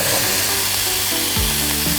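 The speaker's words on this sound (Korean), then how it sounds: "역시 행복의 소리. 행복한 소리입니다. 지글지글." Beef rib meat (galbi-sal) grilling in a studio, a loud, continuous crackling sizzle of fat on a hot surface, with a faint voice murmuring underneath.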